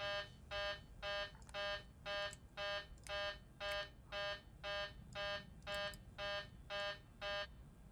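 A cockpit warning tone in the iFly 737 MAX in Microsoft Flight Simulator beeps in a steady, regular pattern, about fourteen even electronic pulses repeating at roughly two per second, fairly quiet with no talk over it.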